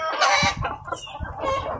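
Chickens on a Filipino backyard farm cluck repeatedly in short, close bursts, several birds overlapping, with one brief crow-like call partway through; no one speaks.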